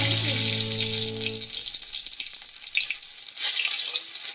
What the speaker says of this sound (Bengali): কড়াইতে 2 টেবিল চামচ তেল দিয়ে দিয়েছি, তেলটা গরম হয়ে গিয়েছে। এই পর্যায়ে তেল আর শুকনো লঙ্কা